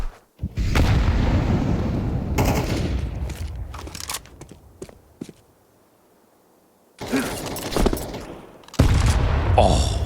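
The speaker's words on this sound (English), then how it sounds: "that's a wonderful nade on that timing for Zontix" A grenade going off in a Counter-Strike match at a professional tournament, heavy booming blasts and gunfire that come in loud bursts, drop away into near silence, then return with sharp loud hits.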